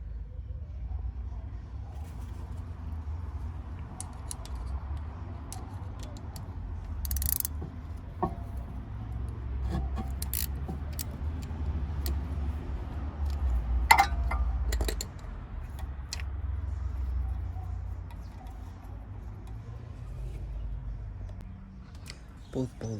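Bolts are undone on the rear brake of a VW Golf MK7, with a ratcheting tool clicking and metal parts clinking in bursts over a low background rumble, heard fairly quietly.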